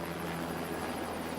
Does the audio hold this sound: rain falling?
no